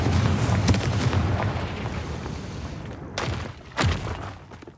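A fiery spell explosion in the game Hogwarts Legacy, a loud rumbling blast that slowly fades, followed by two sharp bursts near the end.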